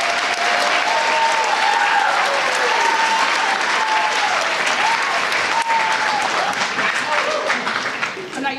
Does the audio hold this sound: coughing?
no